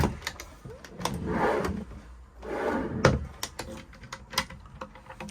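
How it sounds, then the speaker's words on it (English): A cutlery drawer in an Elddis AutoQuest 185 motorhome slides open and shut twice with rolling rumbles, followed by clunks, knocks and rattling of items nearby. "Cutlery drawer."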